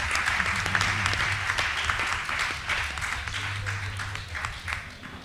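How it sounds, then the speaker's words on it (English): Audience applause at a reggae music event rolls on for several seconds, a thick crowd of clapping hands with a low musical hum underneath that fades slightly toward the end. "Applause, please."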